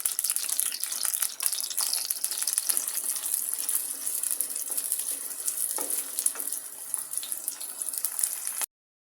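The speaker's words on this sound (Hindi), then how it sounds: "अब मैं इसमें डालूंगी प्याज को हल्का सा फ्राई कर लूंगी" Chopped onions sizzle in hot oil in a kadhai, a steady, dense crackling hiss that stays fairly loud and even from start to finish, with no voices.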